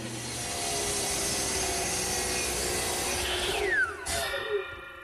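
A saw cuts the excess wood off a turned croquet mallet head on a lathe, a steady close rasping drone that slows and winds down near the end with a falling whine.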